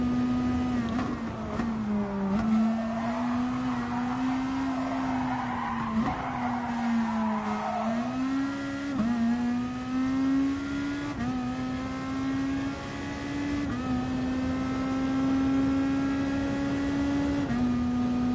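Race car engine in Gran Turismo Sport, droning loud and steady with rising and falling revs through corners, tires skidding and squealing along the track.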